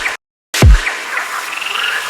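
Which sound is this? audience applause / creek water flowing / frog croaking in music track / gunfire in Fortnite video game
frog croaking in music track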